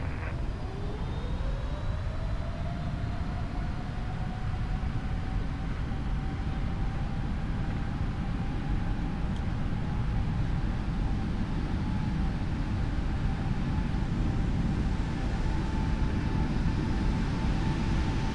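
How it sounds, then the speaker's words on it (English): Airliner engines in a flight simulator spool up from a low rumble to a steady roar with a rising whine, holding loud and continuous through the takeoff roll with no talk. "I announced my intention to take off and lined up on the runway"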